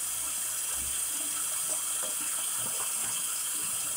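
Hot water runs steadily from a tap into a sink, a continuous hiss and splash at moderate level with small bumps and drips throughout.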